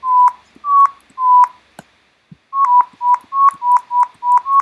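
Ableton Operator synth playing a melody of short whistle-like tones that glide smoothly in pitch between notes. Three sliding notes come first, then a pause, then a faster run of about eight gliding notes, clean and upfront with no talk.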